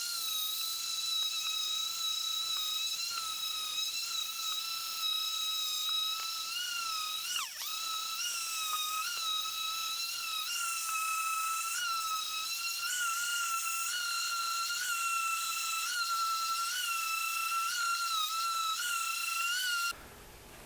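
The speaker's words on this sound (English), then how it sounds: "So I'll make this pass with the orbital" An orbital floor sander whines continuously on hardwood with a steady high-pitched tone and hiss, unbroken for a long stretch before cutting off at the end.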